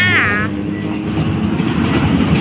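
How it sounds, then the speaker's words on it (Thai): Container freight train rolling past a railway crossing whose barrier is broken, a steady, loud low rumble of wagons filling the whole stretch, with people talking over it. "รถไฟันตู้คอนเทนเนอร์ ไปแล้ว"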